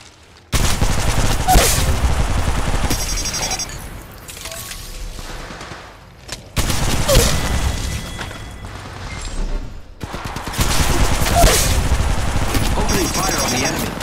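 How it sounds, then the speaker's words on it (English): Gunfire in the mobile shooter Apex Legends Mobile: loud sustained bursts of automatic fire in three long volleys separated by brief pauses, with booming impacts and game sounds layered in. "Opening fire on the enemy."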